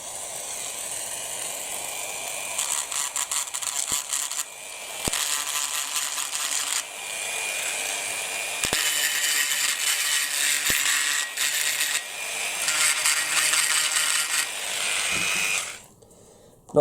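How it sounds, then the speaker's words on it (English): A Dremel rotary tool grinds the melted plastic rivet heads off a Hot Wheels Elite diecast model car. A high, buzzing whine comes in several bursts of a few seconds each, with short pauses and light clicks between them. "we'll use the Dremel here, and we'll basically grind those little melted heads off now"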